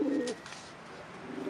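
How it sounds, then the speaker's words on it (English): White pigeons from a big flock in Weihai give soft, throaty coos, one near the start and another at the end, with quiet surroundings between. "Weihai's theme of happiness extends to a big flock of white pigeons."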